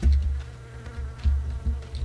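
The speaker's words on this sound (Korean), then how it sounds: "무슨 파리 소리죠 이거?" An insect buzz like a housefly hums in a PlayerUnknown's Battlegrounds match, a close, wavering drone that swells and fades in a few short pulses.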